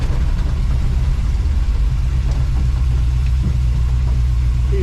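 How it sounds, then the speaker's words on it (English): A Willys 4x4 wagon engine runs with a steady, loud low rumble close by, idling unevenly and roughly throughout with no voices. "That motor's not quite happy."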